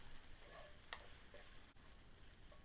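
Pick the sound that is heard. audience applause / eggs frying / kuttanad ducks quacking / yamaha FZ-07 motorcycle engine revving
eggs frying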